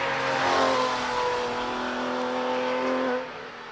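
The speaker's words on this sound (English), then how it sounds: "Glorious sound of that Porsche Boxster engine." A Porsche Boxster climbs at the Prescott speed hill climb, its engine holding a sustained, tuneful howl as it accelerates, heard from a short distance before the note eases slightly near the end.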